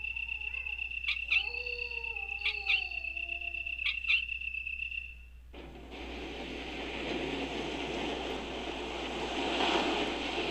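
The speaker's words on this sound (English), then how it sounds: "So with that, we've drained the water." Water drains with a sudden broadband rush in the Resident Evil video game, starting midway after a few sharp tonal calls and tones, then swelling steadily louder until the end.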